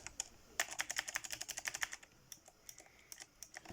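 Keys on a Genesis Thor 200 RGB gaming keyboard are pressed in quick bursts, a close series of sharp clicky taps with brief pauses between runs, quiet and with no voices.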